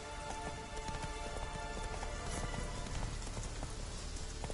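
Horse hooves clatter at a steady galloping rhythm in The Witcher 3 video game, a continuous dense patter like rain, fairly quiet and without talk.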